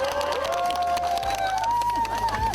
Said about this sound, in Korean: 박수 쳐야 돼, 이때.